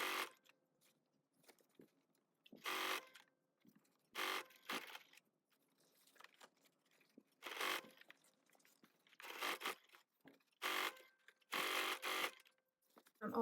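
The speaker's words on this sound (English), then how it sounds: "now we're going to stitch starting at the side seam." A sewing machine stitches the side seam of a clutch purse with a 3/8-inch seam allowance, running in several short bursts separated by pauses, close and fairly quiet with no talking.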